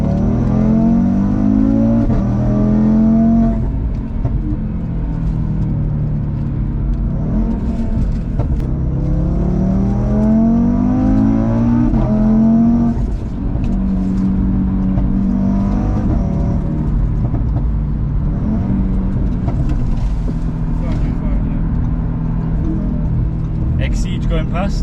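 An Audi RS3's engine drives a lap of the Nurburgring, loud and close, rising repeatedly in pitch through the gears and easing off between pulls, with a person talking over it throughout.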